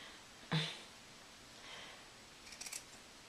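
Scissors snipping through fabric seam allowances while sewing pajama pants: one sharp close cut, then a short burst of quieter snips near the end, in a quiet room without talk.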